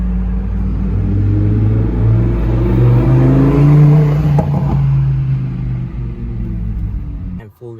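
A Range Rover and a Lamborghini Huracan Evo accelerate hard together in the rain, their engines rising in a loud, close, building drone that swells toward a peak before abruptly cutting off.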